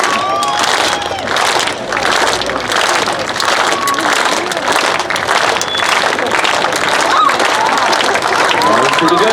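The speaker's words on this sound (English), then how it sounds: "Let's hear that clap" Crowd at the Calaveras County Jumping Frog Jubilee finals claps and cheers loudly and continuously, a dense outdoor burst of applause with whoops, near and sustained throughout.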